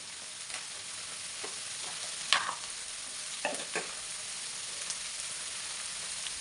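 Okra and potatoes are tossed with chili, coriander, turmeric and garam masala in a pan, giving a faint, steady sizzle and a few scattered stirring scrapes, two of them more pronounced.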